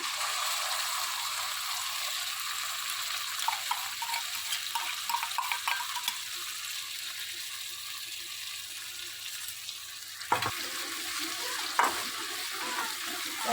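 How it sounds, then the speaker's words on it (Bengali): Spice paste with tomato sauce and red chilli sauce fries in a pan, a steady sizzle under scraping stirs and a few sharp clatters of the spoon, close and alone. "মশলাটা ভালো করে কষিয়ে নেব"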